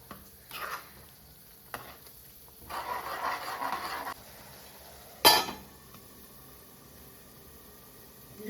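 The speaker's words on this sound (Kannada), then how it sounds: "ಅಲ್ಲಿವರೆಗೂ ಇದನ್ನು ಚೆನ್ನಾಗಿ ಫ್ರೈ ಮಾಡ್ಕೊಳ್ಳಿ." Peas curry masala frying in a pan and being stirred, with soft bursts of sizzling and scraping, a louder sharp clatter midway, and quiet gaps between.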